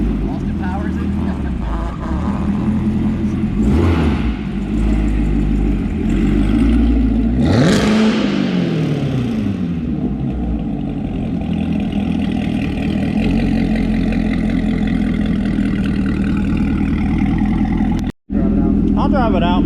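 A 2019 Corvette ZR1 with an AWE Touring exhaust runs close by: a deep idle rumble broken by a couple of sharp rising-and-falling revs before settling back to a steady burble, with a brief dropout near the end.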